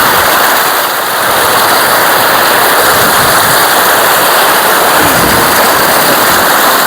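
A cold Himalayan mountain river rushes past in a steady, loud, close roar of flowing water, unbroken for the whole stretch with no talk.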